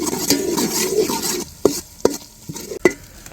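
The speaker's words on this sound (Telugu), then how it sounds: "అల్లం వెల్లుల్లిపాయ పేస్ట్ కూడా వేసేసుకొని పచ్చివాసన ఏదో అంటారు కదా అది పోయేదాకా వేపేసుకోవాలి" Onions, green chilies and ginger-garlic paste frying in a pan, a steady sizzle with the scrape and knock of a spoon stirring in several sharp taps, close and fairly loud with no talk.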